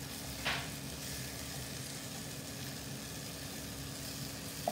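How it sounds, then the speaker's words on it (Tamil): Onions and tomatoes with salt and chili powder sauté in a pan for homemade paneer dosa, a steady soft sizzle heard close and alone throughout. "இந்த வெங்காயம் தக்காளி நல்லா வதங்கிடுச்சு. நம்ம இப்போ இதில் இந்த மிளகாத்தூள் போட்டுடலாம்."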